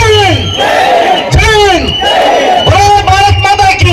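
A large crowd at a college annual day function shouts and cheers loudly in unison, with repeated surging cries that fill the whole stretch.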